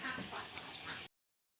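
Chickens and ducks on a rural Thai farm cluck and chatter in a brief, fairly close burst that cuts off abruptly into silence.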